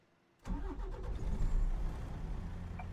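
A truck engine starts in Euro Truck Simulator 2: near-silence, then a sudden crank that catches into a steady, fairly quiet mid-pitched idle rumble that carries on to the end.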